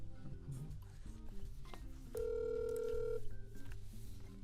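A phone call is dialed, with short electronic keypad beeps followed by a single long steady tone, heard close up over faint background sound.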